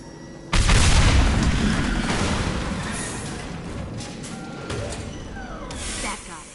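Tanks explode in Mass Effect 2 with a sudden loud boom, followed by a long rushing, hissing roar that slowly fades over several seconds. A few sharp crackles sit in the noise.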